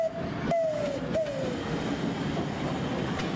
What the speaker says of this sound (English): The whistle in the background is from Thomas the Tank Engine.